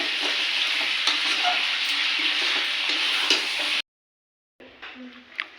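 Potatoes fry in a pan for a prawn curry, giving a steady, close sizzle with stirring. It breaks off into a brief silence, then returns quieter with a few clinks.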